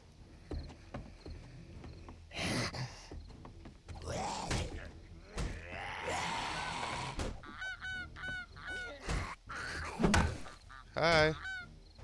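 A goose in the 7 Days to Die video game honks repeatedly in loud, nasal bursts, mixed with game noises and thumps, with a person talking between the calls.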